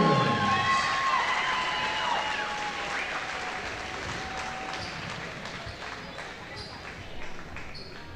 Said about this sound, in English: Ladies and gentlemen, one round of applause for your